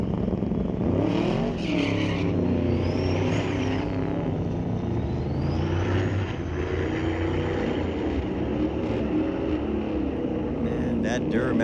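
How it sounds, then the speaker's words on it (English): A Duramax diesel truck accelerates hard down a drag strip at a street-legal drag night, its engine note rising in pitch through the run under crowd noise and nearby talk. "That Duramax got torque, don't it? Just moving."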